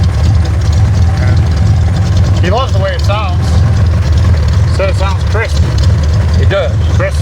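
A car engine with mufflers idles with a steady low rumble, while people talk over it throughout.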